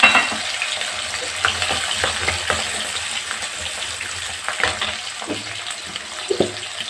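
Small whole onions (shallots) fry in hot oil in a pan for goat intestine curry, giving a steady close sizzle broken by scraping stirs and a few sharp clacks against the pan.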